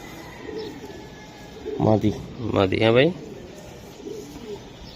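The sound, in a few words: pigeons cooing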